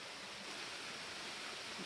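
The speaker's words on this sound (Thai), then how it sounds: "นี่คือน้ำตกปางสีดานะครับ" Pang Sida waterfall in Pang Sida National Park, Thailand, pours with a steady, dense broadband roar that stays constant and close throughout, with no voices.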